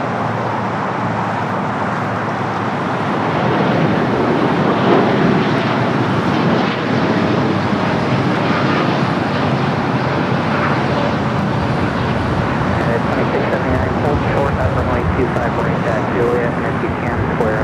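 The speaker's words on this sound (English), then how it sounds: "Aeromexico Dreamliner now rolling down to 25 right" An Aeromexico Boeing 787 Dreamliner rolls down runway 25 right at Los Angeles International, a broad, steady engine roar that swells after a few seconds and holds loud throughout, with a voice speaking over it.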